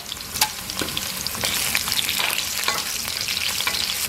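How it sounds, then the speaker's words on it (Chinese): Scallion, ginger, dried chillies, Sichuan pepper, star anise, cinnamon, bay leaves and black cardamom frying in oil in a clay pot, a dense close sizzle with occasional stirring knocks and no voices. "锅里倒点油，下入葱姜。 干辣椒、花椒、八角、桂皮、香叶、草果，"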